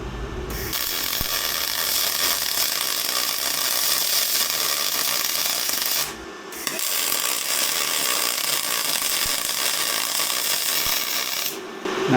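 ARCCAPTAIN spool gun welding thick aluminum: two long, steady bursts of loud, hissing arc crackle, separated by a short pause, with no talking.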